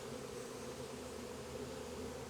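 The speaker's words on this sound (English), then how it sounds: "There's one little spot right here that I can see bees" Wild honeybee swarm buzzing at a barn, a steady, dense drone of many insects close by, continuous and unbroken with no voices.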